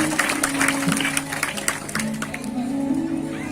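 A crowd applauds during a Shrimad Bhagavatam katha, with busy overlapping claps over a sustained tonal drone. The clapping thins out and fades after a couple of seconds, leaving the drone and some room noise.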